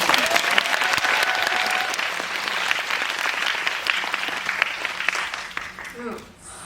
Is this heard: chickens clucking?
no